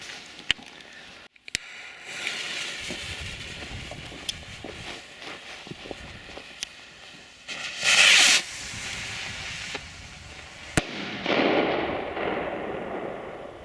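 Funke silver firework rockets with brocade effect launch: sharp cracks and bursts crackle against steady hiss, with a loud whooshing burst near the middle and a longer roaring fizz toward the end.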